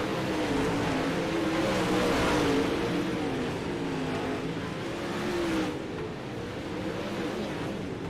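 A dirt late model race car engine drones steadily on track in a Pro Late Model Dirt Series event at Weedsport, a continuous rumbling roar with slight pitch rises and dips, heard from a distance.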